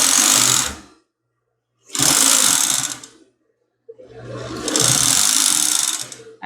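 A sewing machine stitches a foam bra cup in three loud bursts of steady whirring, separated by short pauses.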